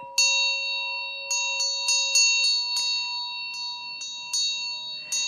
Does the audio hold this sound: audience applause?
no